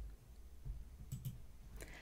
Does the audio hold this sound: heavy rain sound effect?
no